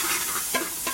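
Onions and garlic browning in a pan for braised collard greens, a hissing sizzle broken by a couple of scraping stir strokes, close and brief with no voice.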